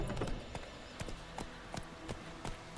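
Horse hooves clip-clop in a steady trotting rhythm in The Witcher 3 video game, sharp distinct hoofbeats roughly every half second over quiet background, with no voices.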